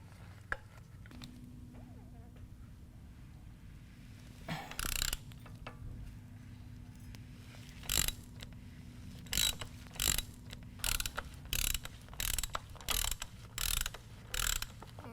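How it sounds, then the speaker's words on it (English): A hand ratchet on a 5/8-inch extension with a filter wrench loosens a Harley-Davidson motorcycle oil filter, sounding as a series of short, close clicking bursts in a quiet workshop. "So take your ratchet, your 5/8 inch extension, and your filter wrench and remove your filter."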